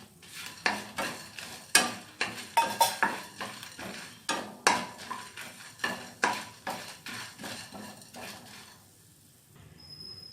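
Dried red chillies dry roasted in a pan, with repeated scraping and stirring strokes in a steady rhythm, close and fairly loud, and no voice.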